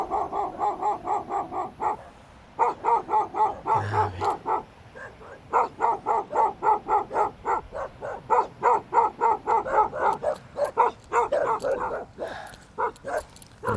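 Several dogs bark in rapid, repeated volleys nearby, nearly continuous with short pauses, with a brief low knock early on.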